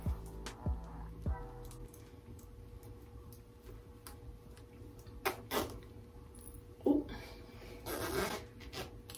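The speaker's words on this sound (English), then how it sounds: "let me show y'all how this jacket zips up." A zipper on a fall jacket is zipped up in a quiet indoor room, heard as several short, close rasps and clicks scattered among soft handling noises, with no talking.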